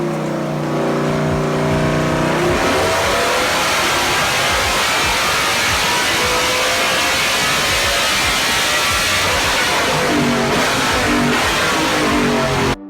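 A BMW S65 4.4-liter V8, built to near 600 horsepower, revs hard and loud close by, its dense roar rising and surging continuously throughout with no talking.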